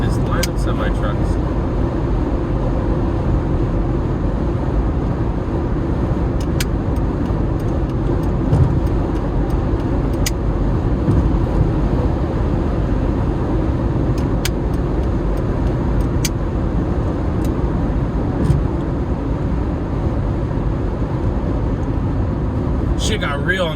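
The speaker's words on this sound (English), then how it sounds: "Look at this line of semi-trucks." A line of semi-trucks rolls past on the road, producing a continuous loud engine and tyre roar throughout, with occasional sharp clicks.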